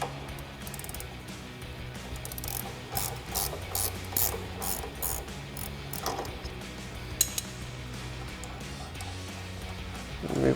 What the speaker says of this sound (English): we're going to grab our 16 millimeter ratchet wrench and a 9/32 socket